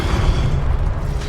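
Incendio fire spell cast in Hogwarts Legacy, giving a continuous low, rumbling roar of flame that holds steady and fairly loud for over a second, with no speech over it.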